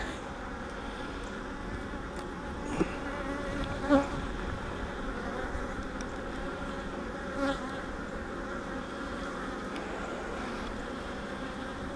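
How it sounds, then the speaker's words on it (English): Honey bees fill the bottom box of a hive during an inspection, a continuous close buzzing drone with a few brief louder bursts and faint handling knocks. "I guess that's where all the guard bees are."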